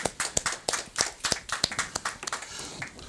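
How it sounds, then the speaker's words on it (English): Audience clapping for student athletes at a high school college commitment ceremony, made of separate, distinct hand claps from a modest group, close and fairly brisk, thinning toward the end. "clap it up for all the student athletes who spoke on their behalf"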